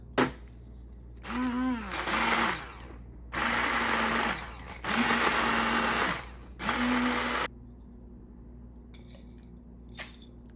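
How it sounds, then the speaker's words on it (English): An immersion blender grinds dried tomato flakes into powder, its motor whirring in four separate loud bursts with rising and falling pitch and short pauses between them, then falling quiet. "why don't I hit it with the immersion blender and see if I can get it any finer"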